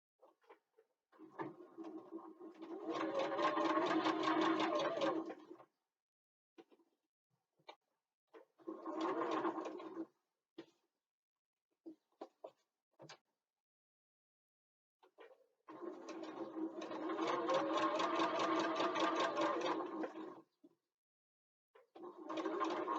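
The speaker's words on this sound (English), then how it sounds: "just change your machine stitch length to whatever, well, a higher length, and just baste in place" A sewing machine bastes the short ends of a bookbag in long stitches, running in several bursts of a few seconds each with quiet pauses and small handling clicks between.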